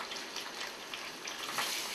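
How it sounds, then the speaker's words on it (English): Cold tap water runs steadily into a sink while onions are rinsed under it. The splashing is soft and continuous, with no one speaking. "We're going to go over to the sink. We're going to run these under cold water."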